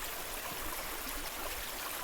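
The River Avon on Dartmoor rushes beneath a bridge of multi-ton granite slabs, a steady broadband wash of flowing water with no pauses, fairly loud and close.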